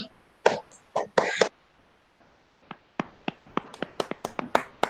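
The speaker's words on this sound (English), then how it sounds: "A big clap for them also" Scattered claps and taps from a web lecture audience, a few bursts early on, then a quiet gap, then a loose run of separate claps that sounds like only a handful of people clapping.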